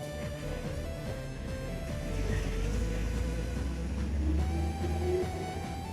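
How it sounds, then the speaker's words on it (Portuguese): A truck passes along the road, its low engine rumble swelling from a steady background hum to a louder, closer roar midway before easing off again. "Deixa eu parar para o caminhão."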